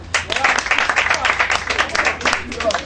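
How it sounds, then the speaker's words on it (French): An audience claps for technical staff at a congratulations ceremony, a lively uneven round of many hands that swells and stays strong for about three seconds, with a voice faintly audible beneath. "Applaudissez aussi l'encadrement technique."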